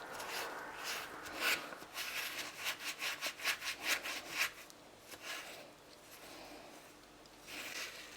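Scrubbing a stained pot with Astonish cleaning paste, a close, rhythmic rubbing and rasping in quick strokes that speed up into a run of short scrapes, then slow into longer pauses and resume.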